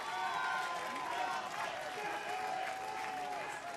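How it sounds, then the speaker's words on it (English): A crowd applauds the third-place rider on the podium at a cyclo-cross World Cup race in Namur, Belgium, with dense, steady clapping that stays loud and continuous throughout. "sous vos applaudissements"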